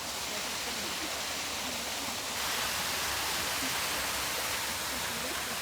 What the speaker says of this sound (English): And these are the waterfalls